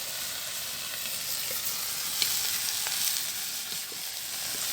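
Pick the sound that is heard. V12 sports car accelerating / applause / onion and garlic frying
onion and garlic frying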